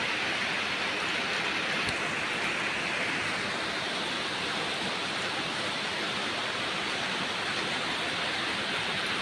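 Steady, dense rainfall hisses continuously, an even wash of noise without pauses or voices, moderately loud and enveloping.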